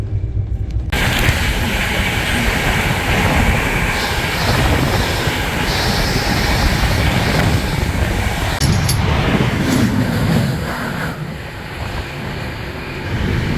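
Karnataka Express train rushing past on the adjacent track, heard from aboard the 20452 Intercity Express: a loud, continuous roar and rumble of passing coaches with wind rush, easing slightly near the end.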